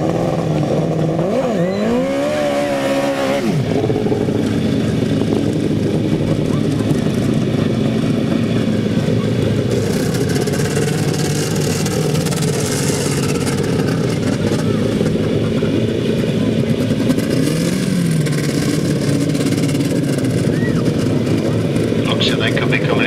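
Grasstrack racing motorcycles at a British Masters qualifier meeting, lined up for a race restart, make a steady, loud engine roar that fills the whole stretch, with a voice heard over the din.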